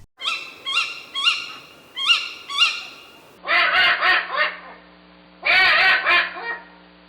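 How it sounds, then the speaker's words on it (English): Cries of tawny owls and male eagle owls: a run of five or six short, bright hooting calls in the first half, then two longer, harsher bursts of calling, loud and close with no voices. "two different birds, tawny owls and male eagle owls, whose cries are thought to herald death in German folklore"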